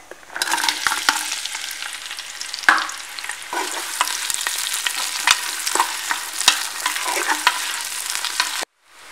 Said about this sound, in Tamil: இது கூட நம்ம பெரிய வெங்காயம் சேர்த்துக்கலாம்.